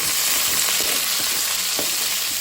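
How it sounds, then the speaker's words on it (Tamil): Crushed ginger fries in hot oil for a spicy fish curry, giving a continuous close, dense sizzle with occasional soft stirring taps beneath it. "இஞ்சி தட்டி வச்சுருக்கேன், அதையும் எண்ணெய் போட்டுக்கலாம்"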